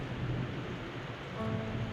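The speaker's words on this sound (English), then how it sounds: "It's raining heavily." Heavy monsoon rain falls steadily in Mumbai, a dense continuous hiss and patter with no voices over it.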